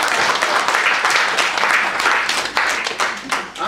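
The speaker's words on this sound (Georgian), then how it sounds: "აპლოდისმენტებით" Audience clapping at a magazine launch event, a dense, steady wash of many hands applauding together, loud and sustained throughout before thinning slightly near the end.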